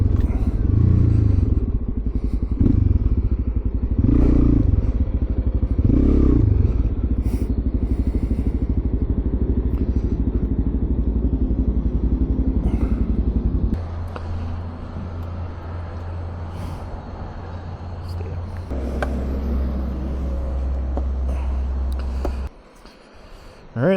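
A Suzuki DRZ400SM motorcycle with a Lectron carburetor runs on ethanol-free gas, its engine rumbling loud and close with revs rising and falling, then settling into a lower steady drone before briefly cutting out near the end.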